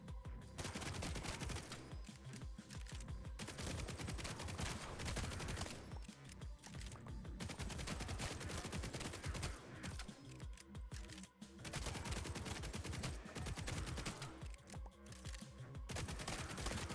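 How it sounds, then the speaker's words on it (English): Rapid, dense gunfire from the video game Grind Survivors, a loud continuous barrage of shots with brief lulls between bursts, alone without talk. "I'm shooting a crazy amount of bullets now"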